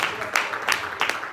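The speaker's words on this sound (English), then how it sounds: "Clap your hand and give him a praise." Congregation at a COGIC church prayer service clapping hands in praise, with a few loud, distinct claps spaced across a short burst over a dim crowd wash.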